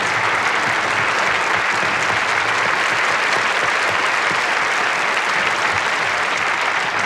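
A large audience gives standing applause at the 1985 All Star Party for Ronald Reagan in Burbank, California: dense, loud clapping that holds steady for the whole stretch with no talk over it.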